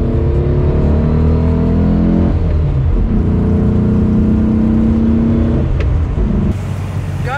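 A 1964 Porsche 356 C Coupé with a 100 hp engine roars loudly up close as it accelerates, its engine note climbing through the gears with a brief dip between them.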